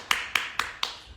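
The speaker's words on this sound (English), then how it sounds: "Give you a clap again" Four single hand claps land one after another at a steady, even pace, close and fairly quiet, with no other sound between them.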